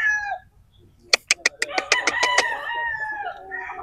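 A green-legged sweater gamefowl rooster crows loudly and close, a long drawn-out call that follows a quick series of sharp clucks or flaps, with someone speaking briefly just before it.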